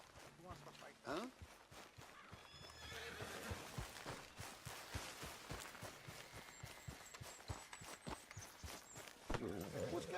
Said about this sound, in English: What's got this horse spook